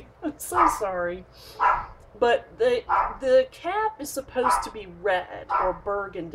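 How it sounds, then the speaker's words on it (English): A dog barks and yips repeatedly indoors, sharp bursts coming close together under and between a person talking nearby. "Please excuse my dog."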